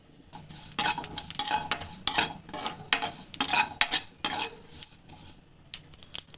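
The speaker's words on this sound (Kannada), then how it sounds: "ಈಗ ಇದೇ ಬಾಣಲಿಗೆ ಎಳ್ಳು ಹಾಕ್ಕೊಂಡು ಹುರ್ಕೊತೀನಿ" Sesame seeds dry-roasting in a frying pan while a spoon stirs them, giving close, irregular metallic scrapes and soft rustling bursts over a faint crackle, with no voices.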